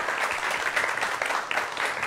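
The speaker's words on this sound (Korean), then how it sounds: "오늘의 주인공 두 분을 큰 박수로 모시겠습니다" A televised science talk show's studio audience applauds as two guests are welcomed, a steady, fairly loud wash of clapping throughout.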